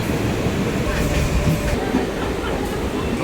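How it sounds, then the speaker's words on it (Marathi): A crowded Mumbai local train running, a steady loud rumble of wheels and carriage noise with a rattling clatter throughout, heard from on board. "ही लोकल ट्रेन कधी भरलेलीच असते"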